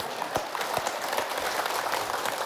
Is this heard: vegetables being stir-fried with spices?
no